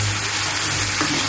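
Tomatoes sauté in a pan for Pongal kuzhambu, a brief, close, continuous sizzle with a soft stirring clatter near the end, no voice.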